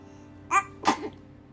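Two sharp little baby sneezes in quick succession, close and clear against a quiet room.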